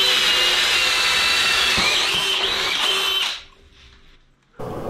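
A DeWalt DCD996 cordless hammer drill fitted with an auger bit bores into material, a loud high-pitched motor whine with grinding that runs for about three seconds, then cuts out and drops to near silence before another sound starts.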